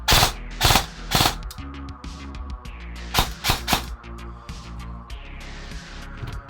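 Airsoft Famas rifle fitted with a Perrin AB++ firing loud, close bursts of three rapid shots, with pauses and mechanical clicks between the bursts and no talking.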